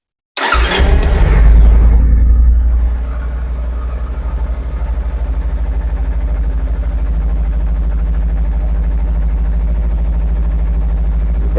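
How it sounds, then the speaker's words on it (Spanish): A car engine cranks and catches during a battery start test with low cranking voltage, a loud burst settling within a couple of seconds into a steady, close idle that runs on evenly. "voy a proceder a arrancar el motor."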